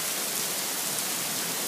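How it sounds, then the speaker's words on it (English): Heavy storm rain pouring down hard in a mini-hurricane, a dense, steady, loud hiss of water with no letup and no voices. "This rain is going crazy."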